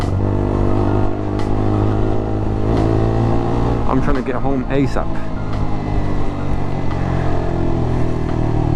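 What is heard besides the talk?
road traffic noise heard from a car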